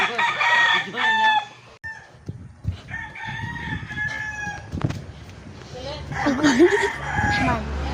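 Fighting roosters crow repeatedly and cluck nearby, loud and overlapping, with a person's voice talking in between.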